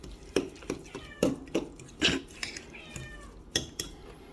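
A cat meows repeatedly in short calls, mixed with light clattering and tapping sounds nearby.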